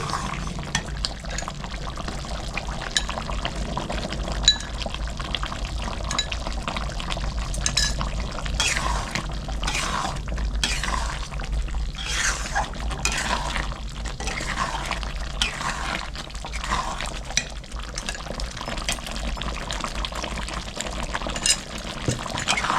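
Cornflour liquid is poured bit by bit into simmering chilli chicken gravy and stirred in, giving a soft, steady trickle and faint bubbling with light splashes throughout.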